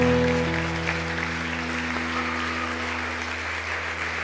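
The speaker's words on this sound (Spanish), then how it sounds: "Dale un aplauso fuerte a nuestro Dios." A church congregation applauds God during a service, a steady wash of clapping under a sustained musical tone that fades slowly over a few seconds.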